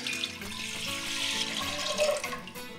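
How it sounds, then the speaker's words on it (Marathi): Water splashing and gurgling steadily as it pours into a heavy-bottomed pot, close and continuous, with a slight rising tone as it fills. "पातेल्यात मेजर केलेलं पाणी हे असंच छान जाड बुडाच्या पातेल्यामध्ये घालायचं"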